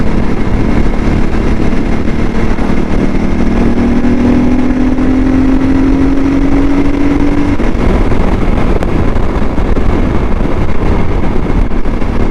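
A CSC RX4 motorcycle engine running steadily while riding, a constant loud drone mixed with heavy wind rush, with a faint rising tone midway and no voices.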